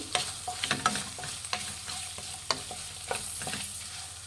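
A spoon stirs and scrapes through chana dal and fresh coconut frying in a pan, with soft clinks and a gentle sizzle underneath, no talking.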